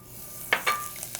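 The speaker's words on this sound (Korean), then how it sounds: "자, 먼저 새우부터 볶을게요." Shrimp being sautéed in butter in a cast-iron pot: a quiet sizzle with a couple of soft utensil scrapes and light clinks against the pot, close and alone.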